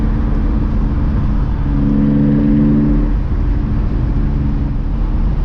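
Inline-six S50 engine in a BMW E30, supercharged with individual throttle bodies, idling steadily and close, a smooth even hum that swells briefly in the middle.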